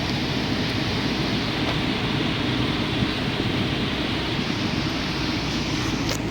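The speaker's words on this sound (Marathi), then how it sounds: "मित्रांनो, पाऊस बघा, तुम्ही पाहू शकता किती जोरात आला आहे तो" Heavy rain pours down at Ganpatipule by the coast, a dense, constant roar of hiss without pause, close and loud throughout.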